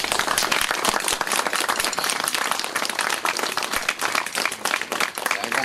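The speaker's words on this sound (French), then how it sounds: "Je pense qu'on peut tous les applaudir." A crowd claps at an outdoor Armistice Day commemoration ceremony, with brass band, firefighters and gendarmerie present. The applause is dense and continuous, with sharp individual claps standing out across the whole stretch, and no talking over it.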